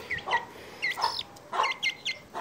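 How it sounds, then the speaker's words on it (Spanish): A small brown chick peeps repeatedly in high, sharp chirps while being handled and its wings opened for sexing, close by and agitated, in quick uneven bursts. "aquí tenemos el otro pollito, el marroncito"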